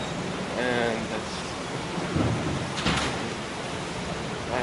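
Heavy rain falls on the East Coast, a dense, steady hiss of pouring water throughout, with a low rumble and a faint voice briefly heard beneath the downpour.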